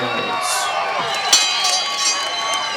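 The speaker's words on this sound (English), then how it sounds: "You don't have to listen long to figure out who the crowd is for here" A fight crowd at a 2007 WEC cage fighting event cheers and whoops for Poppies Martinez, a sustained roar of shouts and whistles with a brief louder burst, carrying on steadily throughout.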